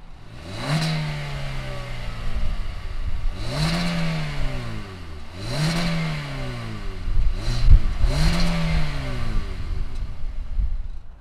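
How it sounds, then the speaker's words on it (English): A 2020 Hyundai Venue crossover's engine revs repeatedly under the hood, with five rising-and-falling throttle blips spaced a couple of seconds apart, loud and close, with no talking. "let's fire up this Venue and see if it makes any sound"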